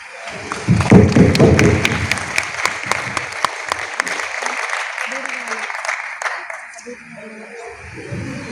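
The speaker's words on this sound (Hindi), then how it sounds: "प्ले अच्छा लगा तो ताली जरा जोर से बजाएं" An audience claps after a university fine-arts student play, scattered hands pattering with a few sharp close claps, fading toward the end. Talk and crowd murmur are heard under the clapping, strongest near the start.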